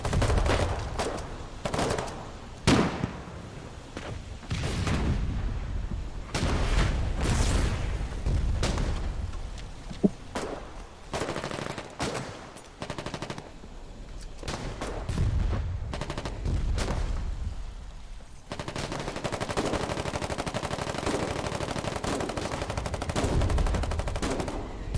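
Frontline fighting in the war game Foxhole, with heavy gunfire throughout: bursts of machine-gun fire, single rifle shots and booming artillery blasts, some close and loud, others distant, overlapping in irregular clusters.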